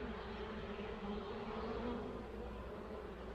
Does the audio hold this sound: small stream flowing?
no